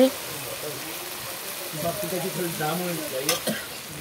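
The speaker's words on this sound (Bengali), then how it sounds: "এখানে চিকেনের জন্য আলু, পেঁয়াজ, তেজপাতা সব কিছু একসাথে তেলে দিয়ে" Potatoes, onion and bay leaves frying together in hot oil for a chicken dish, a steady close sizzle with stirring scrapes, a voice talking over it.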